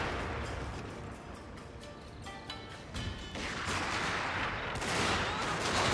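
Volleys of musket and rifle gunfire crackle in a Total War: Fall of the Samurai battle, scattered shots popping over a constant rushing battlefield din that swells louder toward the end, with no voices.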